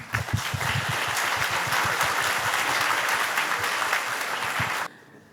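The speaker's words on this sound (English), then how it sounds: "Please give a round of big applause to the presenters." Loud, sustained applause from a large audience for startup pitch presenters, steady for about five seconds before cutting off abruptly.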